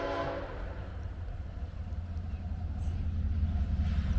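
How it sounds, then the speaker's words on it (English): A train rumbles past, a deep rolling roar with rhythmic clatter growing louder and closer; a brief horn-like tone sounds near the start. "Oh, here comes a train."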